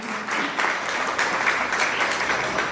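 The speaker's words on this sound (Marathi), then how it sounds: "जोरदार एकदा टाळ्या होऊन जाऊ द्या" Loud, steady applause from a crowd welcoming guests at an indoor event, dense clapping sustained for the full few seconds with no pause.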